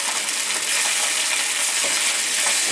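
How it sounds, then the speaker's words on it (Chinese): Vegetables sizzle and crackle steadily in a hot wok, with ketchup and vegan oyster sauce being stirred in, a dense continuous frying hiss with faint scraping of the spatula, no voices. "把调味料炒匀"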